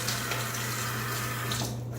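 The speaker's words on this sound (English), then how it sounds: "I'm just going to splash some water on my face" Water runs steadily from a tap into a sink while someone rinses with it before shaving, a continuous hiss with a low hum underneath that drops away briefly near the end.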